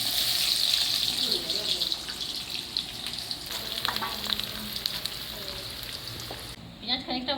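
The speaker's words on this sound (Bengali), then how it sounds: "পেঁয়াজ খানিকটা ভাজা হয়ে গেলে আদা রসুনই যাবো" Onions fry in oil with bay leaf and garam masala in a village kitchen, a loud, continuous sizzle with stirring, while a voice talks faintly underneath.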